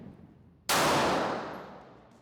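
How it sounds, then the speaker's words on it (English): One loud, close report from a Smith & Wesson Bodyguard 2.0 pocket pistol breaks the quiet, followed by a long fading echo. "we're gonna run about 8 rounds through each mag just to see if they run"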